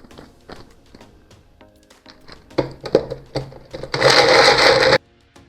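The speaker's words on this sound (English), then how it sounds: "Now I will grind the wet nuts, which are dates, raisins, apricot, and cranberry" A kitchen blender grinds dates, raisins, apricots and cranberries into a sticky paste: a few short rough pulses, then about a second of loud continuous whirring grind before it stops abruptly.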